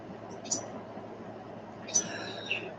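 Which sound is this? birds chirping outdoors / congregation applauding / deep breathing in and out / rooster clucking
birds chirping outdoors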